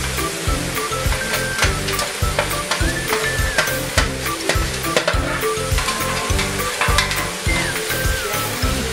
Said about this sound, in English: now we're going to put all of the leeks in and the shallots, and we're going to stir fry this for 5 minutes